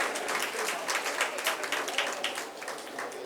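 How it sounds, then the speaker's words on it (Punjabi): An audience at a death anniversary ceremony for Bhagat Puran Singh applauds steadily, many hands clapping together in a dense, sustained burst. "ਜ਼ੋਰਦਾਰ ਤਾੜੀਆਂ ਦੇ ਨਾਲ ਇਸ ਰਸਮ ਦਾ ਵੀ ਸਵਾਗਤ ਕਰਨਾ ਹੈ"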